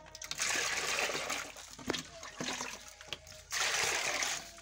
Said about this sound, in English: Now, add water to it,